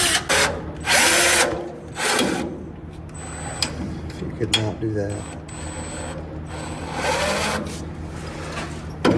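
A power drill whines in bursts, starting and stopping as its bit bites into metal on a car, with a voice speaking briefly between runs.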